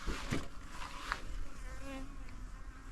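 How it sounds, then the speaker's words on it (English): Bees drawn to scent buzzing close by on a Kenyan house-building site, a steady insect drone with a few louder passes near the start. "Can you see a bee?"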